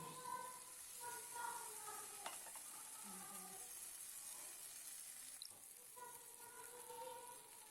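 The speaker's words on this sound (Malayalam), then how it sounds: "ഇനി ചിക്കൻ ചേർത്ത് വെക്കാം" Chicken pieces going into a pan of gravy for chicken biryani, a soft, low sizzle with occasional stirring clinks and scrapes, quiet and close.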